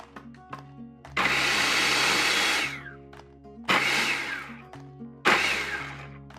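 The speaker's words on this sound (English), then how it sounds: "I'm gonna add my olive oil while I pulse, and it kind of creates a creamy texture for my chimichurri" A food processor pulses chimichurri while olive oil is drizzled in: three loud whirring bursts, each lasting one to two seconds, separated by short pauses, close up and with no talking.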